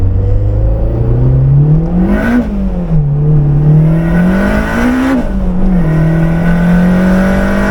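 Turbocharged Acura RSX pulling through the gears, the engine droning loud and close as it climbs in pitch, dips briefly at each shift and climbs again, with road and wind noise underneath.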